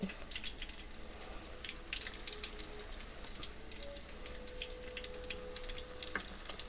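Beer-battered Alaskan halibut frying in a shallow layer of oil gives off a steady, faint crackling sizzle with scattered bright pops and no talking.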